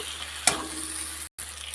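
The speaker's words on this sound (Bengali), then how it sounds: "ভালো করে নাড়াচাড়া করে নেব।" Fried brinjal pieces are stirred into sizzling spice masala in oil, with a steady sizzle, one sharp clatter of the spoon, and a brief cut-out near the end.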